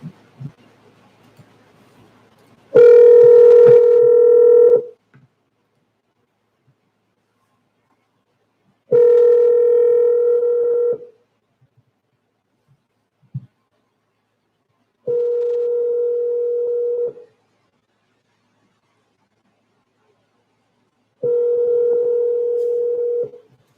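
A landline telephone rings on a call line, with four long, evenly spaced ring tones and silence between them, loud and clear with no talking.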